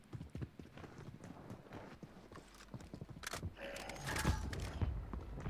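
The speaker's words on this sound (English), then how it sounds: "So many footsteps." Footsteps in Warzone on the Fortune's Keep map: dense, rapid thudding steps that grow busier and louder toward the end, joined by a rush of broader game noise.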